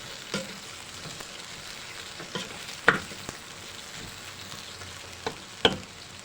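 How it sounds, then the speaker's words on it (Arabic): Soaked freekeh being stirred into fried onions in a pot, a low continuous sizzle broken by occasional scraping clicks of the spoon against the pot. "وبعد كده رحت ضفته على البصله وببتدي ان انا اقلبه"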